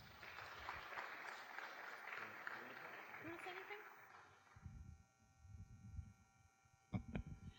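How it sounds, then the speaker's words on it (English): A faint, distant round of audience applause at a Berkeley staging of the play The Arsonist, fading out after a few seconds before a person starts speaking. "let's all give them a really warm round of applause"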